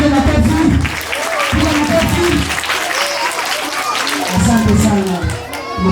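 Audience at a church children's poetry recital applauds after a poem, a dense steady wash of clapping mixed with voices and cheering throughout.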